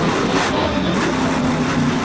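The Obsessed monster truck charges across a dirt arena floor at a county fair freestyle show, a dense, loud, roaring engine rumble that holds steady throughout with crowd and arena noise blended in.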